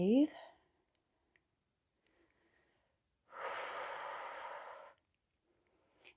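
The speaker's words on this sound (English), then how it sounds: "Breathe." A deep breath during a revolved lunge in a yoga flow, a soft broadband exhale lasting about a second and a half, heard alone in a quiet room after a brief spoken cue.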